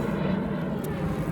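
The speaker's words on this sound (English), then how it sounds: "There's an airplane taking off." An airplane taking off beside the Han River, heard as a steady low engine roar that runs through the whole short stretch, continuous and moderately loud with no talking over it.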